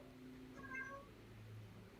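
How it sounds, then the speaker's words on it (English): A cat meows once, a short harmonic call in the background of an online community chat, fairly faint over a steady low hum. "Somebody's cat."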